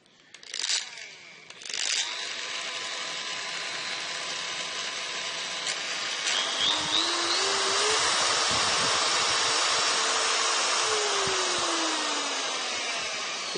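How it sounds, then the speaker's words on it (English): A Bosch professional variable-speed die grinder runs alone and close, starting with a couple of short bursts before settling into a loud, steady high-pitched whine that rises in pitch partway through. "I've got this Bosch professional grinder or die grinder."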